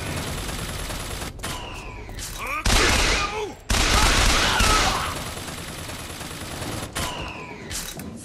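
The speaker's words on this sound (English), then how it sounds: "What's he shooting at up there?" Gunfire in the video game Bioshock Infinite comes in sharp bursts and repeated shots, including loud close blasts in the middle, set against game ambience. A player's voice is heard talking over parts of the action.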